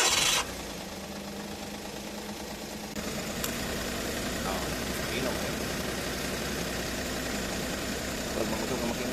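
Suzuki DA64V with a K6A engine idling roughly with a misfire, a low steady engine rumble and vibration that runs throughout, opening with a brief sharp burst, while people talk nearby.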